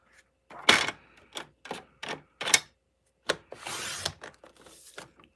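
A paper trimmer blade slides through cardstock to cut a card base, giving a run of short, sharp mechanical clacks and a longer rasping slice. The sounds are close, moderately loud and isolated, with no talk over them.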